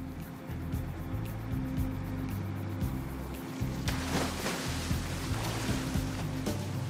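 Rescue boats out at sea off Hvide Sande, Denmark, a steady low engine drone with sea wash and wave noise running continuously, moderately close, no talking.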